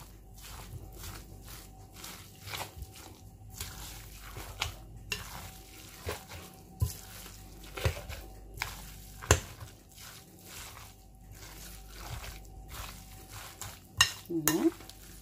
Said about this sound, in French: Je mélange le tout une fois de plus afin d'obtenir quelque chose d'homogène.